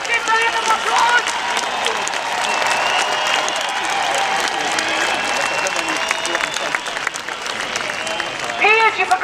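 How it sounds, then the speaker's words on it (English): A crowd at an outdoor freedom protest rally bursts into sustained applause and cheering, with whistles and shouting voices mixed into the dense clapping, swelling again toward the end. "Let's hear a massive round of applause."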